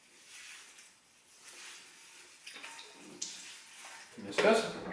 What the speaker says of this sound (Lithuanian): Norite pažiūrėti, kaip plausiu šitą keptuvę?